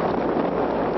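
Strong wind on Mount Everest roars and buffets the microphone, a dense, steady, loud rush with no pauses and no voices.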